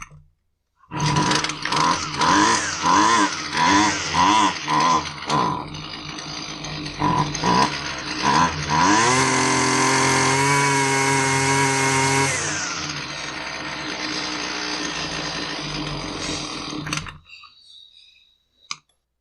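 A Husqvarna 128L strimmer engine running after a carburetor tune, revving in repeated uneven bursts, then holding a high steady whine before dropping back and cutting off, loud and close.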